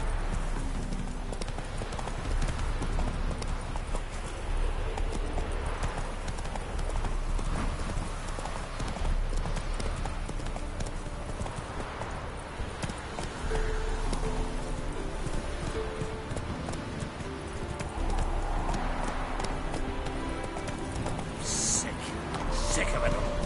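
Hooves clip-clop in a steady galloping rhythm as a horse runs in The Witcher 3, with a soft rain-like wash and an occasional whinny beneath it, loud and continuous throughout.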